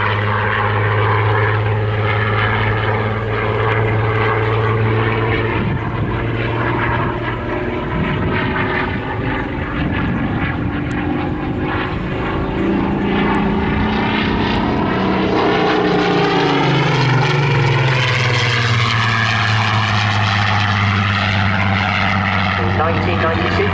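A Spitfire PR XIX propeller aircraft, PS853, flies past at an airshow, its piston engine a loud, continuous drone that rises and shifts in pitch as it passes, with a voice speaking over it throughout.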